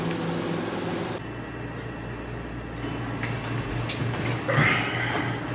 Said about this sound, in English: is our dryer.